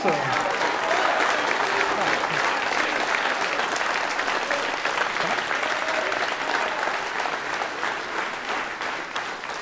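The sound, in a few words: audience applause at a campaign rally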